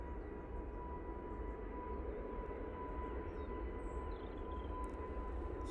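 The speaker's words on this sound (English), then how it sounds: "we're going to stay on this EasyJet. A320neo going off to Bordeaux" EasyJet Airbus A320neo jet departing for Bordeaux from Manchester Airport, a faint, distant, steady engine rumble with a thin constant tone above it, continuous and unbroken, with no voices.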